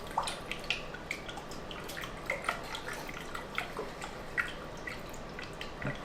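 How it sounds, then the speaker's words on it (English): A hand stirring nutrients into water in a deep water culture container, giving close, irregular splashes, drips and sloshes that come and go over several seconds with no talk. "I'm going to go ahead and stick my whole hand in here just to get it nice and stirred up here"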